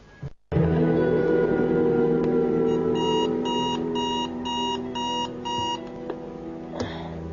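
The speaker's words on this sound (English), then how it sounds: "Why did the alarm go off?" An electronic alarm clock goes off at three in the morning, with a loud steady tone that shifts into rapid repeating beeps in regular bursts before cutting off.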